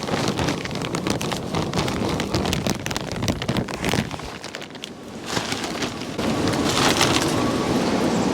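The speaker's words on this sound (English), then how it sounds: "can you guys hear that wind?" Strong wind blows outdoors in a spring garden, loud enough to send plastic nursery containers flying. A steady, close, broadband rush fills the whole stretch, dipping briefly midway before surging again in heavy gusts, with no one speaking.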